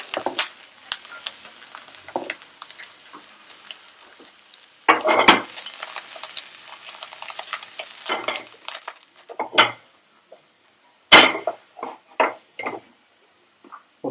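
Ginger and garlic frying in a pan for vegetable fried rice, close and loud, with intermittent bursts of sizzling and metal spoon scraping and clinking against the pan between quieter pauses.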